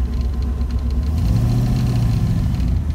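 Ford Mustang engine fitted with Holley Sniper EFI, running loud and steady with a deep low rumble and slight rise in revs midway, no talk over it.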